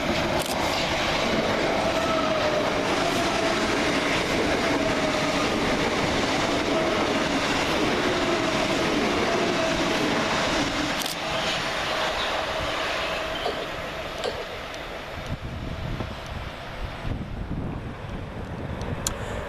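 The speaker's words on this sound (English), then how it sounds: "First fast train is 387215 and 387214, working 1 Zulu 24 from London Victoria to Brighton." Two coupled Southern Class 387 electric units, 387215 and 387214, run fast through Southwick station on a London Victoria to Brighton service, a loud, sustained rush of wheels and wind that fades toward the end.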